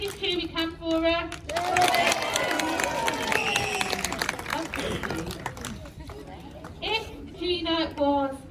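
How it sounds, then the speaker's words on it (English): Seaquarium audience cheering and clapping for a fur seal at a show, a loud burst of many hands and voices that swells after a presenter speaks, then fades as she talks again. "biggest cheer we can for her"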